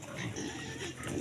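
Pigs grunt and snuffle steadily at feeding time, a low, close, continuous rumble of oinks in a short stretch.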